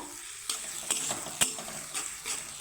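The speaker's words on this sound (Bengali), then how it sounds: "এখন আমি আদা রসুন তার গন্ধ যাওয়ার জন্য কিছুক্ষণ আমি ভেজে নেব" Ginger and garlic fry in a pan with tomato and green chillies for an okra dish, giving a low sizzle with several sharp clatters of a spoon stirring against the pan, close and with no talk.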